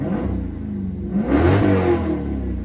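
A car engine revs up briefly, a deep rumbling exhaust swelling and easing back, close by with no talk.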